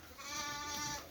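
A single sheep at a livestock market lets out one drawn-out bleat of about a second, fairly quiet and on its own.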